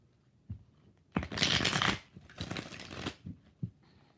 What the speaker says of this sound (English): Full shuffles.